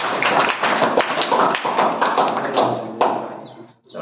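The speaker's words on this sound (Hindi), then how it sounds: "अपने सभी सम्मानित शिक्षकों के लिए भी तालियां बजाइए जोर से" Audience clapping for teachers at an education event with prize distribution, a dense, steady round of hand claps throughout that fades out at the end.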